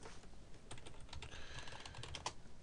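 Quiet, rapid typing on a computer keyboard, a steady patter of soft key clicks at close range with no talking.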